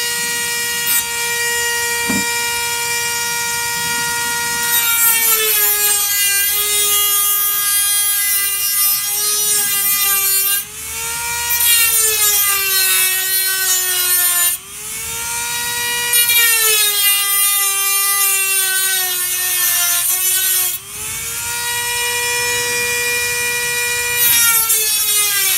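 A Dremel rotary tool cuts through an aluminium window frame, a loud, steady high-pitched whine whose pitch dips and wavers as the cut loads, with brief breaks where it stops and restarts.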